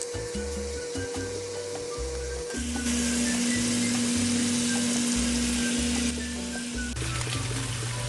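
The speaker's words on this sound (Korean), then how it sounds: "삼겹살이 어느 정도 익어 소금과 후춧가루도 뿌려줬어요." Pork belly frying in a pan, seasoned with salt and pepper: a continuous close sizzle and crackle of fat that grows louder partway through, with background music and no talk.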